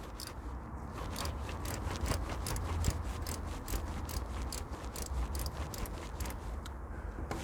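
A ratchet wrench clicks in a steady run of quick, faint strokes while undoing a rear differential bolt on a Mitsubishi 3000GT, with no talking.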